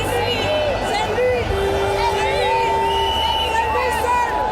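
Crowd cheering and shouting at a presidential inauguration, a loud, continuous roar of many voices with whistles and high calls rising above the babble throughout.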